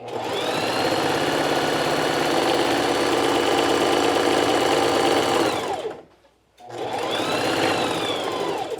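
A domestic sewing machine stitches elastic onto pants fabric in a loud, steady whir that runs for about six seconds, stops briefly, then starts again.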